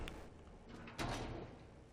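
A door opening in the horror video game Reanimal, heard as a sudden broadband burst at the midpoint that rolls into a sustained creaking rumble over a low ambient drone, with no talking.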